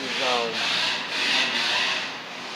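A drill bit grinds and rasps against the metal of a Weber carburetor jet, reaming it in slow, repeated strokes, close up, with a dry scraping texture and no talking.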